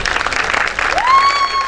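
Guests at an engagement party burst into applause during a ribbon cutting. The dense crowd clapping is close and loud, and a rising whistle-like tone cuts through near the end.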